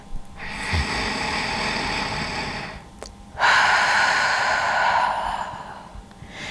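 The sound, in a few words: Ujjayi breath imitating ocean waves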